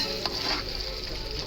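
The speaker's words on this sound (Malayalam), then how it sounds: "ഇഞ്ചി ചെറുതായിട്ട് അരിഞ്ഞ് വെച്ച് അതിടുകയാണ്" Finely chopped ginger dropped into a hot pan for Kuttanad-style duck mappas, a brief, close, steady sizzle with a light stir at the start.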